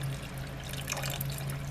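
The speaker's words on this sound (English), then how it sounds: "It's filled up with water." Water runs steadily into a crock pot, a continuous soft splashing trickle over a low background hum.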